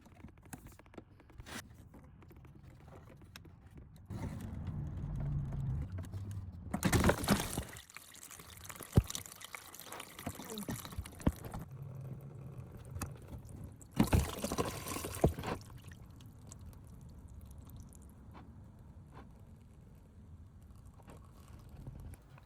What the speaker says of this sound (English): drain the water out of the bottle by running your wipers or disconnecting the hose off of the motor